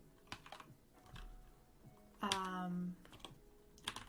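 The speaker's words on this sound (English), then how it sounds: "if I can type" Scattered keystrokes click on a computer keyboard, quiet and close, coming in short irregular bursts with pauses between them, while a voice briefly speaks in the middle.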